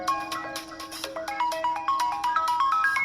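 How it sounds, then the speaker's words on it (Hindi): A mobile phone ringtone plays a bright, repeating electronic melody that rises in short note steps, steady and fairly loud with no voices over it. "और अब फोन कर रही है।"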